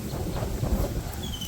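Strong village breeze buffeting the microphone outdoors, a continuous low rumbling whoosh with gusty swells, filling the short moment without any voices.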